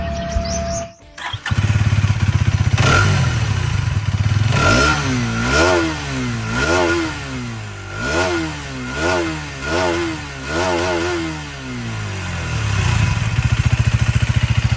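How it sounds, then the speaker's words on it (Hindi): A Hero Xtreme 250R motorcycle starts after a short click, then idles close by. Its exhaust note swells through a series of rhythmic throttle blips before settling back to a steady idle. "अब हम सुनते हैं इस मोटरसाइकिल का एग्जॉस्ट"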